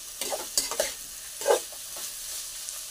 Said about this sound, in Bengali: এবার একটু উল্টিয়ে দেবো, এদিক ওদিক করে দেবো।